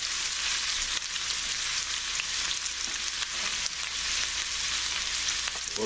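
Butter and orange pieces sizzle hard in a pan over a very high flame, a steady, loud crackling fry that continues without pause and with no voices heard.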